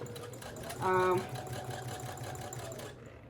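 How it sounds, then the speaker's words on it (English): A sewing machine back-stitches layers of fabric for a personalized dog bone, whirring in a short louder burst near the start under a person talking. "I'm going to go ahead and start sewing. Back stitch."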